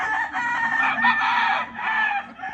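A pure-hatch SP Gilmore gamefowl rooster gives a single sustained crow, clear and moderately close, with no talk over it.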